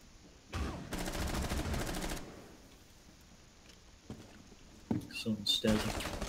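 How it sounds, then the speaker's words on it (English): Gunfire through a window in Rainbow Six Siege during a team deathmatch on the Bartlett University map: two loud bursts of rapid automatic shots, then quieter scattered shots and clatter, with a voice speaking in between. "They're shooting it, still shooting through that window, don't approach it"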